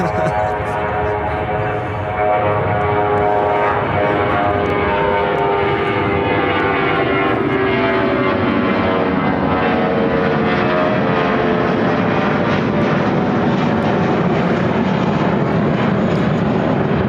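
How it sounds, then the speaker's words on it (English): An Airbus A320 airliner takes off at Chicago O'Hare, its engine roar building into a loud, sustained rumble and whine that holds steady throughout, with no talk over it. "This is United Airlines 2171 taking off to Boston on the A320"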